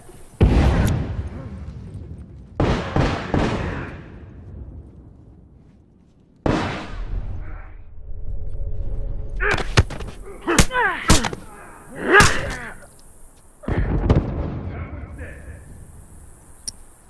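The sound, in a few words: bomb explosion in The Last of Us video game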